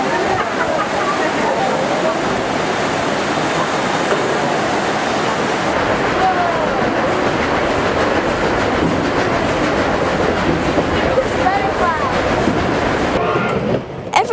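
The Durango steam train runs on the narrow-gauge line toward Silverton, its wheels rumbling steadily over the rails with a close, continuous clatter and rushing noise that lasts the whole stretch.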